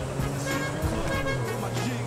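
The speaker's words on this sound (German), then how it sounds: "Und nur die Hupe hört sich gleich behindert an" A limousine's horn in the video game GTA 5 gives a sustained, buzzy tone that runs through the whole two seconds over steady engine and traffic noise.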